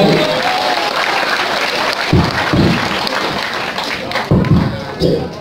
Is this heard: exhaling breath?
no